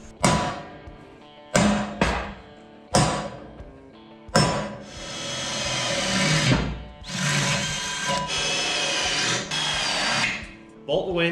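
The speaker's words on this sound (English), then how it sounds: "Get a drill, we'll drill some holes." A handheld power drill bores holes for mounting a winch on the Ratback truck, coming in short whirring bursts with a couple of long sustained runs, loud and close, with clattering between them.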